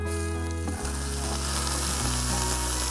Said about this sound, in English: So the goal here is just to fry some chicken